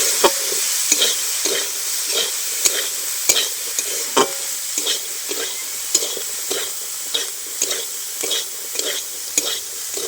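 Winter vegetables with salt, turmeric and chili powder are sautéed in a pan, a rapid, regular run of spatula scrapes and taps over a constant sizzle, close and fairly loud throughout, with no talking.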